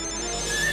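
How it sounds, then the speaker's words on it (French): A mobile phone rings with a short, steady electronic ringtone, its bright tones sounding close and fairly soft with no voices over it. "Oh non, j'ai oublié d'éteindre mon portable."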